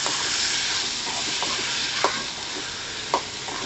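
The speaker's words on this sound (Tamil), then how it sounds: "அதை ஃபுல்லாக இதில் போட்டு நல்லா வதக்கி விட்டுக்கலாம்" Sliced okra sautés in hot oil in a pan, a steady close sizzle with a few soft scrapes and stirs of the spoon, and no talking.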